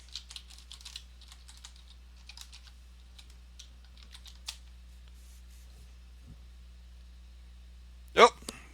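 Bursts of light, quick key clicks from a computer keyboard as a terminal command is typed, a brief pause and then more tapping, ending in a single louder thump near the end.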